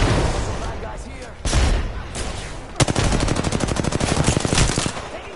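Sustained gunfire in the battle royale game Apex Legends, with loud rapid automatic bursts and single shots ringing close by, firing in a steady stream through most of the clip.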